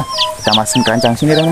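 Chicks cluck and peep in quick bursts close by while a person talks over them.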